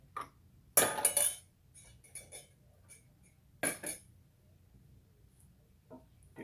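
White onions are stirred in a dish for deep fried ribs, potato salad and baked beans, making a few sharp clinks and scrapes of utensil on dish with quiet gaps between them.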